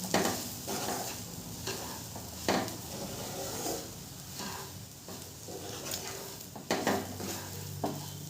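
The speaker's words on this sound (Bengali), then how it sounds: "আবারও একটু সুজিটাকে গাজর আর পেঁয়াজের সাথে খুব ভালো করে একটু ভেজে নেব।" Semolina frying with carrot and onion in a pan for upma, a spoon scraping and stirring in repeated strokes over a soft steady sizzle, close and moderately quiet with no talking.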